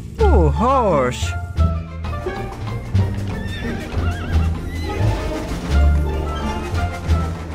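A horse gives a loud, wavering whinny at the start, followed by people talking over scattered clip-clop and background noise.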